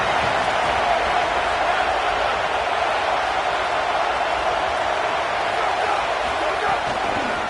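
Dense, steady roar of a stadium crowd in a college football video game featuring Iowa, a continuous wash of massed voices holding at even loudness throughout with no distinct cheers.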